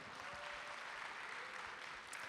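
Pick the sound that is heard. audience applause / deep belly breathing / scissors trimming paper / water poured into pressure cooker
audience applause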